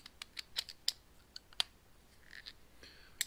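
Screws on a model nitro engine being tightened, a series of small sharp metallic clicks and ticks, close and quiet, spaced irregularly with pauses between them.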